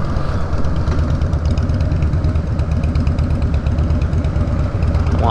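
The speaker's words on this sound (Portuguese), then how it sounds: "Uma Harley Davidson." A Harley-Davidson motorcycle engine idling nearby on a city street, a steady, loud low rumble with an even pulsing throb throughout and no talk.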